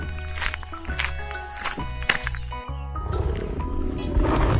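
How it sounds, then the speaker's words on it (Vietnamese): A tiger gives a loud, close, rumbling roar in a few heavy bursts that swell into a longer growl, with no other voices. "Con hổ."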